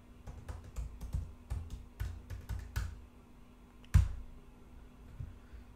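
Someone types a password on a computer keyboard: a run of about a dozen close, crisp key clicks at an uneven pace, then one louder keystroke and a few soft final taps.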